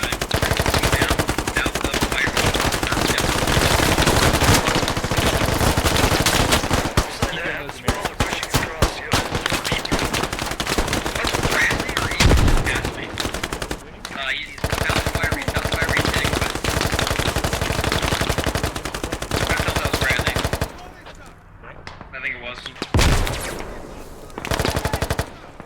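Sustained automatic machine gun fire firing tracers in the video game Squad, dense loud bursts nearly continuous with brief pauses and distant gunfire, close and intense, with faint voice chatter underneath.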